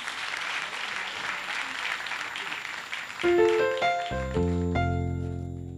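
Television studio audience applauding a performer at a Tabaski festival special, a dense wash of clapping that gives way midway to loud music from her orchestra.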